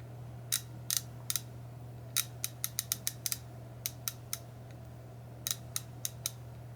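A Carlyle or Icon hand ratchet clicking in quick bursts of sharp, light ticks, close but quiet over a steady low hum, with short pauses between runs.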